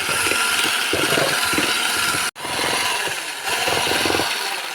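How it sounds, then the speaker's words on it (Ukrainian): An electric mixer whips butter into a light, fluffy cream mass, its steady loud whirring running continuously with a brief cut-out midway, no voices present. "Для крема е, ми беремо вершкове масло і збиваємо його до пишної світлої маси"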